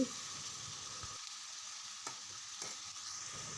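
Half a kilo of chopped tomatoes frying in a pan for a drumstick and egg tomato curry, giving a steady, soft sizzle throughout with no talking.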